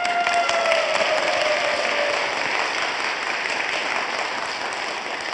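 A church congregation applauding gives a steady wash of dense clapping, loud and continuous throughout, fading slightly toward the end, with no speech over it.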